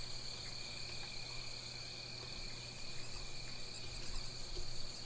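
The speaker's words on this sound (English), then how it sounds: "you can hear all the crickets and birds and whatnot" Steady chorus of crickets chirping in a nighttime woods scene in the video game Night in the Woods, a continuous even trill with no talk over it.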